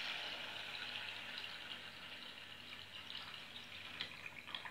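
Water poured from a tap over lentils in a pot, a steady hissing gush that runs continuously and quietly, with slight splashing toward the end.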